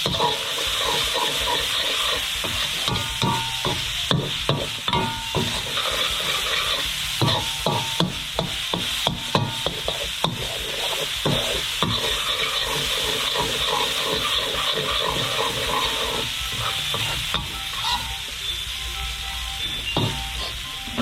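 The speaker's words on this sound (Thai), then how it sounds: "ผัดหอมครับ" Steady sizzling from a hot pan as shallots are stir-fried, with frequent scraping and stirring clatter, loud and close, continuing without pause.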